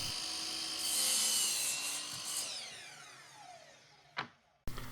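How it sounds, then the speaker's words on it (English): Two cedar fence pickets cut together with a power saw, a loud steady whine of the blade through wood that fades as the cut ends, followed by a sharp clack and a brief burst of tool noise. "Now you're going to see I'm cutting 2 pieces at the same time."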